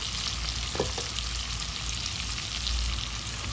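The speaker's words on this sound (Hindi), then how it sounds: "ये प्याज मैं इसमें ऐड करके इसको 2 मिनट भूनूंगी पहले" Chopped onions fry with mutton in a pan, giving a constant close sizzle with a couple of brief stirring knocks and no speech.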